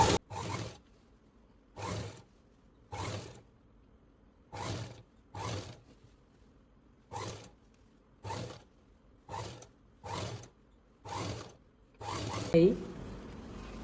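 Sewing machine stitching churidar fabric in repeated short runs, about a dozen brief whirring bursts separated by quiet pauses, close and fairly even in rhythm.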